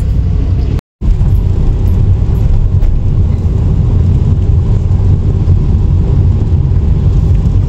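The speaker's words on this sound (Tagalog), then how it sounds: "Traffic." Street traffic on a road in front of Robinson Star Mall in Pampanga forms a loud, constant roar of engines and road noise, broken once by a brief dropout.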